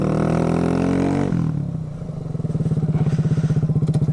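A Kawasaki Z125 motorcycle braking with its rear brake from about 20 mph: the close, loud engine drone drops in pitch as the bike slows, then settles into a steady, pulsing idle.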